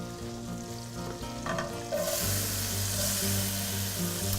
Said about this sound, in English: we'll go ahead and saute the onions here for a bit